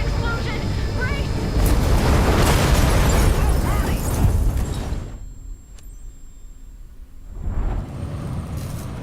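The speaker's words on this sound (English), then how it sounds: "Imminent explosion! Brace!" A car blows up during a video game, a loud sustained roaring blast that cuts off abruptly into near silence before a low rumble returns, with voices heard around it.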